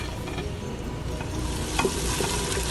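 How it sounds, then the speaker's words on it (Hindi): Green chillies, chopped onion and crushed garlic fry in about four tablespoons of oil, giving a steady broadband sizzle with light stirring scrapes throughout, close and fairly loud with no voices. "उसमें हमने हरी मिर्च, चॉप किए हुए प्याज, लहसुन पिसा हुआ डाल देना है और उसको हमने फ्राई करना है।"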